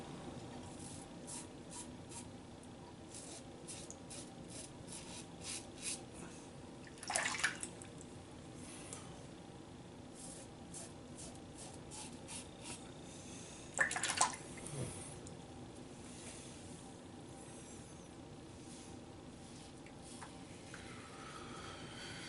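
A razor passes with the grain over skin covered in thick Bay Rum lather, making faint, close, repeated scraping strokes in short bursts against a quiet background, with no talking.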